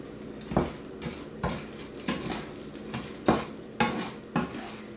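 A spoon clanks rhythmically against a bowl while stuffing is stirred with seasoning, onion and butter for sausage-dressing mushrooms, giving about eight crisp, evenly spaced clinks with soft scraping between them, close and clear, with no talking.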